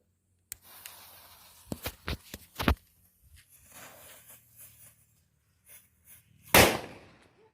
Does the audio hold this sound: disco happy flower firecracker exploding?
yes